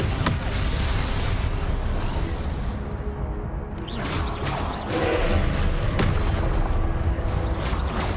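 A Confringo explosive spell from the Hogwarts Legacy video game erupts in dense, loud booming blasts, a brief lull and then another rumbling burst of explosions with sharp cracks.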